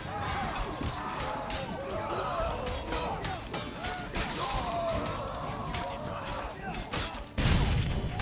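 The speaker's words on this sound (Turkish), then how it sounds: "Oo, variller filan patladı." Barrels exploding during a combat scene in the video game The Witcher 3: Blood and Wine, heard as dense overlapping crashes and booms with a sharp, loud blast near the end, under game music and voices.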